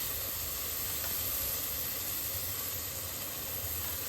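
Curd added to ginger garlic paste frying in a pan for chicken biryani, a steady close hissing sizzle with constant steamy noise and a faint low rumble underneath.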